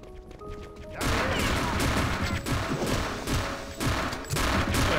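Loud, dense gunfire from the video game Return to Castle Wolfenstein bursts in after a quieter moment, with rapid overlapping shots and heavy impacts continuing throughout in rhythmic waves.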